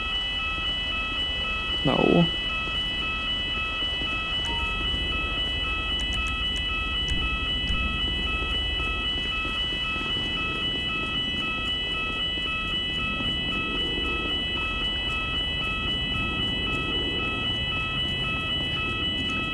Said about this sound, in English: So it's a false fire alarm